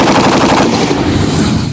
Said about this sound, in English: World War I by the legendary John Browning, the BAR M1918, short for Browning Automatic Rifle, is a unique hybrid between an automatic rifle and a light machine gun